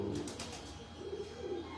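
Pigeons on a Lahore rooftop give low, soft cooing in repeated rolling phrases, fairly close and moderately quiet, with faint chirps in the background and no voices.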